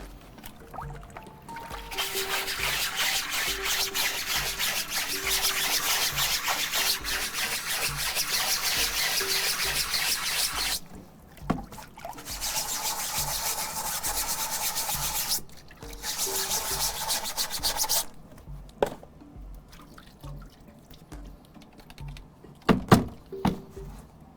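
A silk screen is washed out and scrubbed, giving long stretches of steady rubbing and spraying noise that stop and start, then end with a few knocks and handling sounds.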